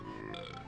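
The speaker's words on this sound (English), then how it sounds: "Captain Blubber here just belches at you." Captain Blubber, a character in the Banjo-Kazooie video game, lets out a single short, gravelly belch that serves as his dialogue sound effect.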